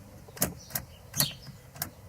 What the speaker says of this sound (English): I'll try to start the car.